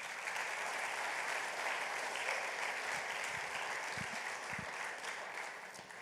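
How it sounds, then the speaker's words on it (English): Conference audience applauding an organizing team at a general assembly, steady dense clapping throughout at even loudness, a few sharper nearby claps standing out, no talking. "Big applause for them."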